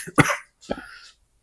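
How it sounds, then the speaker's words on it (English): Two separate coughs close to the microphone, a sharp one and then a softer, rougher one, with silence after. "Still struggling with our coughs over here, guys."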